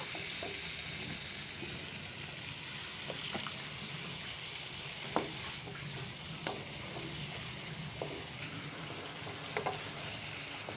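Fish curry spices sautéing with a splash of water in a pan give a steady, close sizzle, with frequent stirring scrapes and clicks running through it.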